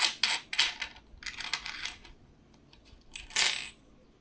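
Indian two-rupee commemorative coins are handled and set down with several bright metallic clinks and jingles in bursts, close up, with a final louder clatter and no talking.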